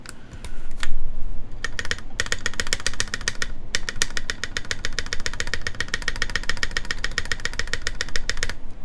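Typing on a Tech Bear TB-65F keyboard, rapid close key clacks in dense bursts with a short pause, over a low steady background hum.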